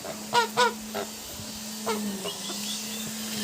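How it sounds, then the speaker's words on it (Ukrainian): Several loud goose honks, two close together at the start, then scattered quieter calls over a steady low hum. "Да, ображають, диви. Погані гуси."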